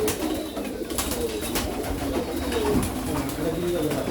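Pigeons coo in a farm bird enclosure, soft repeated low calls over a constant rustling background, with faint bird activity and no clear talk.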